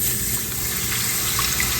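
Beef broth poured into a skillet set to medium-high, a steady close gush of liquid lasting under two seconds, with no talking.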